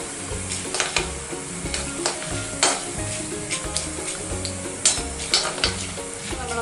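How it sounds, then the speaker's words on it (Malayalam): Coriander seeds frying and sizzling in hot oil for a Kerala-style roasted-coconut crab curry, with a steady crackle and repeated stirring clinks from a utensil scraping the pan throughout. "ഈ ഇട്ട മല്ലി ഒന്ന് ഈ എണ്ണയിൽ മൂത്ത് വരണം ഒന്ന്"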